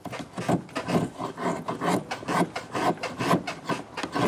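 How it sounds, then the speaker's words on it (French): A spokeshave shaves bark off a length of wood at a medieval-style building site, producing steady, rhythmic rasping strokes, roughly two per second, close and fairly loud with no voices. "utilise une wastringue pour retirer l'écorce"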